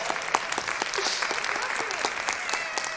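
Audience at a live science show breaking into steady applause, dense clapping with a few louder individual claps and faint voices underneath.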